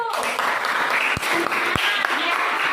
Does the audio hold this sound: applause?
yes